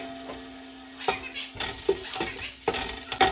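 Chopped garlic sizzles in about two tablespoons of olive oil for a Salvadoran seafood mariscada, a steady close frying hiss broken by several sharp scraping stirs and utensil knocks.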